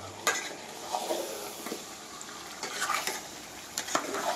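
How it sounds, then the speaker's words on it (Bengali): Large chicken pieces for biryani are stirred in a pot of hot oil, with scraping spoon strokes and soft sizzling in an irregular rhythm, close and fairly quiet, no talking. "এবারে খুব সাবধানে আস্তে আস্তে করে আমাকে চলাইতে হবে।"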